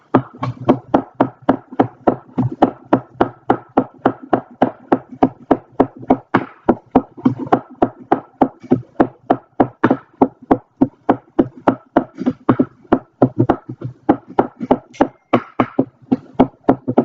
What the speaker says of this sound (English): Next thing you're going to want to do is you want to cut up the cilantro.